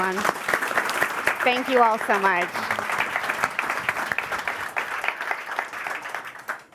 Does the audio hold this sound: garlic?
no